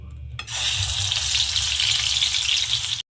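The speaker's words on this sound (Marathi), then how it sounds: "आता तेल तापत आलं आपण हे ॲड करू वाटण" Spinach-tomato paste hits hot oil and bursts into a loud, steady sizzle that holds for nearly three seconds before cutting off abruptly.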